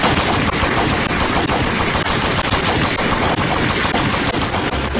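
Sustained burst of gunfire from a reenacted massacre fills the clip, dense rapid machine-gun and gunshot reports rattling continuously and loudly for about five seconds with no pauses or voices.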